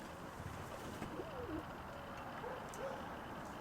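Soft pigeon coos drift in and out over a steady background hum, low and fairly faint, with no voices.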